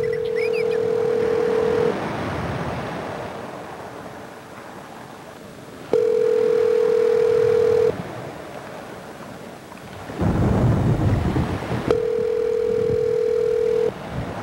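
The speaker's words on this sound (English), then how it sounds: "Here, let's call Freddy the producer, though." A telephone call rings out with steady tones, each about two seconds long and separated by pauses, repeating three times over a loud hissing line.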